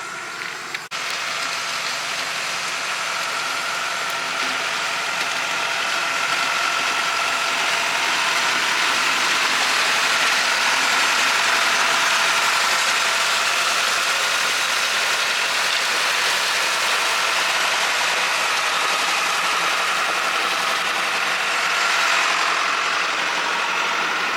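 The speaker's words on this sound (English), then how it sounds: "We got the blade on the tractor and we're getting the cabin driveway graded right now." A continuous John Deere 5425 tractor engine drone with mechanical rattling and clanking as its blade grades a driveway, loud and close throughout, without pauses or voices.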